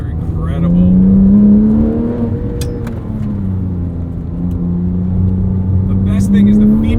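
A 997.1 Porsche 911 GT3 engine accelerates along a canyon road, heard from inside the car as a loud, steady, rising and falling engine note held for several seconds.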